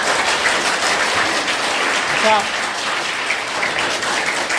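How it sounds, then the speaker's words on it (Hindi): Loud, steady applause from an audience at a Government Degree College Kishtwar poetry recitation, dense clapping filling the whole stretch, with a single short spoken word midway. "बजा दो तालियां"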